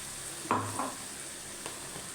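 Potatoes frying with ginger and green chilli paste for mini samosa filling, a soft steady sizzle with a couple of brief scraping stirs of a spoon in the pan.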